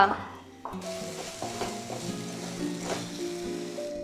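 Masala stirred and fried in a pan for potato kurma, a quiet start giving way to a steady sizzle with repeated spatula scrapes and clinks against the pan, close by.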